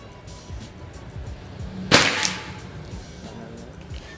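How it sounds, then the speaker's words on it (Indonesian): A single sharp shot from a PCP air rifle cracks out midway during long-range accuracy testing, followed by a brief fading echo over a quiet background. "Selanjutnya tembakan yang kedua buat tes akurasi yang pertama."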